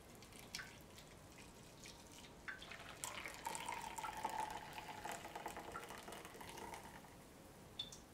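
Soapy water gently sloshes and drips in a sink as oily drill bits are pushed under the bubbles, soft and close with small splashes and trickles, no voices.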